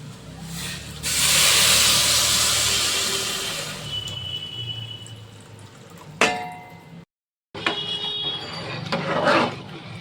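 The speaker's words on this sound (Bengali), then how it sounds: "এবার দেবো গরম জল" Hot water poured from a pot onto rice and lentils for khichuri, a loud hissing, splashing pour lasting a few seconds, then softer clinks and stirring sounds with a brief silent gap.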